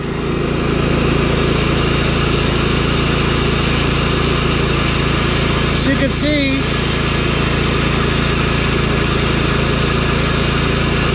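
A repowered Scotts by John Deere lawn tractor engine idles with a steady, even drone outdoors on a hot day. Someone speaks briefly over the constant engine noise.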